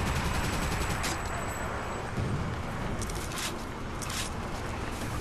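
Heavy artillery fire booming during a Toy Soldiers: War Chest video game battle, dense and continuous, with gunfire bursts layered over a constant loud rumble.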